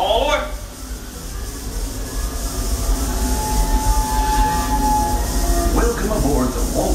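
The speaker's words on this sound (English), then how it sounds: "The Walt Disney World Railroad" The Walt Disney World Railroad steam train runs through the Magic Kingdom with a steady low rumble and rolling wheel noise, faint squeals and clicks over the rails, close and continuous throughout.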